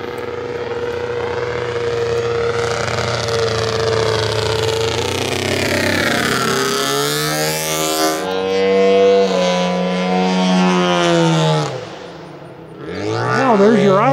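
A giant-scale Hempel model airplane engine fitted with a muffler, on a 60 percent Extra 260, runs loud and steady, its pitch sweeping up and down through throttle changes before dropping briefly and revving again.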